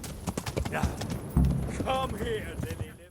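Galloping horse hooves in the video game Kingdom Come: Deliverance, a rhythmic clip-clop under shouted speech and battle noise, with a brief whinny partway through.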